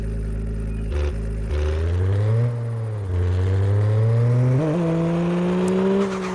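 A Honda NSX engine in the Car Parking Multiplayer game revs loudly and climbs in pitch, dipping briefly as if shifting gear, then rising again in a smooth, sustained drone.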